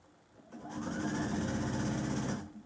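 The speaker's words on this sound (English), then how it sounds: "And I'm just going to sew this." A sewing machine stitches an apron at a 4.0 stitch length, running steadily for about two seconds with a smooth whirring drone that starts and stops cleanly and stands alone without talk.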